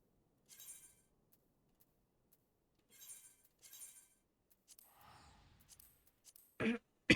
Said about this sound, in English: I really can't wait for this cough to go away.